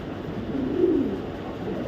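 Racing pigeons give a soft low coo that swells briefly and fades against a steady background hum.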